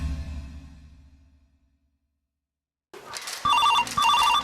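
A telephone rings after a pause, its electronic bell tone sounding in two close bursts, fairly loud and clear, following fading music at the start.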